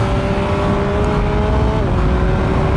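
A Triumph Speed Triple RS motorcycle's three-cylinder engine roars loudly and steadily up close, its pitch dipping slightly near the end.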